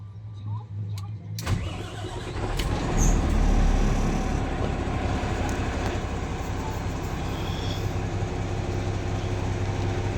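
A Howo 380 transit mixer truck with a low power problem cranks and starts abruptly, then settles into a steady loud diesel idle that continues up close, with someone talking over it.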